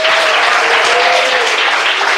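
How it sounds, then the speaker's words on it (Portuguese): A church congregation claps together in loud, dense, continuous applause for a couple of seconds, with no talking over it. "Palmas e glória a Deus."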